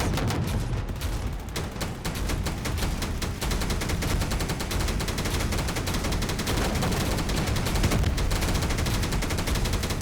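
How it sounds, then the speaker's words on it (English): Fireworks in a video game, a dense, continuous barrage of loud crackling bursts and pops that goes on without a break. "We have fireworks."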